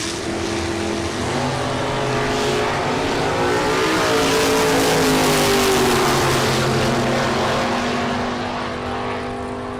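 A 1972 Ford Pinto makes a drag racing pass, its engine roaring loudly and climbing in pitch through the gears, holding a strong sustained drone for nearly ten seconds before easing slightly at the end.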